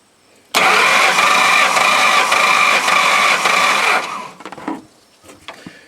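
A Ford 4.6/5.4 litre V8 cranks steadily and loudly on the starter for about three and a half seconds with a compression gauge fitted to cylinder seven, then cuts off into a few scattered clunks and rattles.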